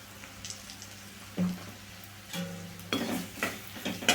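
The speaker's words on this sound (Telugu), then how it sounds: "ఈవన్ ఈ మసాలాలన్నింటినీ ఒక్క సెకండ్ పాటు వేయించుకోవాలి" Ground spices, Kashmiri chilli powder and coriander powder, sizzle briefly in hot oil in a pan for an okra stew, with scattered stirring scrapes and utensil clinks, close and moderately loud.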